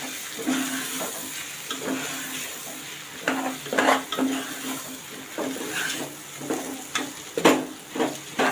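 Rice mixed with chopped coriander in a pot gets stirred in uneven bursts of scraping and clinking over a soft background sizzle, with short quiet gaps between strokes.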